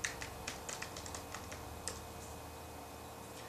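Keys clatter on a Logitech Revue keyboard as a search is typed, a quick run of light taps up close that thins out and stops partway through, with no one talking.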